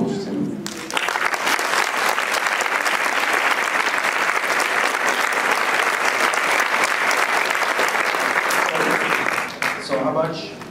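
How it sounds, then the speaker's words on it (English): Dense, sustained applause fills a conference hall at the PMSF 2014 closing session, loud and steady for about ten seconds before tapering, with brief voices at the start and end. "I think they need a big round of applause too"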